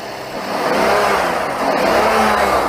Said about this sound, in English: Now rev it.